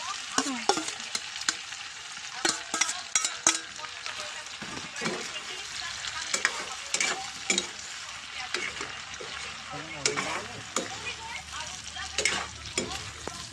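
Pork and tomatoes frying in a pan while being stirred, with a steady sizzle broken by frequent scraping and clattering strokes of the utensil, close and moderately loud, with brief talking in between.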